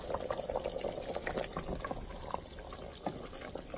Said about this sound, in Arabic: صافي نغليها تغلي شويه مزيان